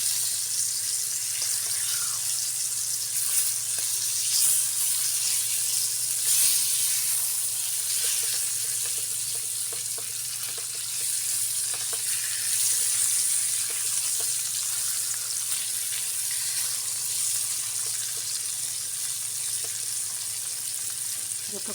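Fish pieces for a Bengali fish bhuna fry in oil in a pan, giving a continuous, crackling hiss of sizzle that stays fairly even for over twenty seconds, with occasional small pops and stirring sounds.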